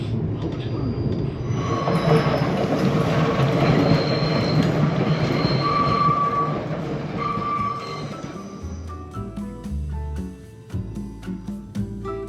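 A German passenger train heading toward Mainz rumbles and rolls along the rails with squealing wheels and clattering, fading to lighter clicks and knocks as it slows toward the end.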